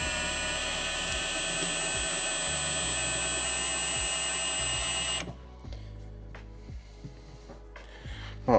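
A drill bores a pilot hole into a quartz countertop with a small bit, a steady loud whine for about five seconds that stops, leaving quiet handling sounds afterward.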